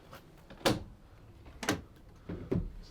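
The twin solid rear doors of a 2016 Ford Transit Custom 2.2 TDCi L2H1 van are opened, producing three separate, fairly quiet latch and door clunks spaced about a second apart.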